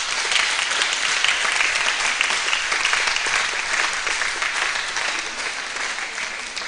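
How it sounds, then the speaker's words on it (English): An audience at a symposium marking 140 years of the Sisters of Our Lady of Apostles applauds in a dense, even wash of clapping that goes on steadily and tapers off slightly toward the end. "Let us give a hand of applause to the SMA fathers who are here present"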